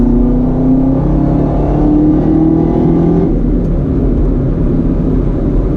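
A 2019 Chevrolet Camaro ZL1 accelerates on throttle, its loud, steady engine roar rising through the gears from inside the car with no talk.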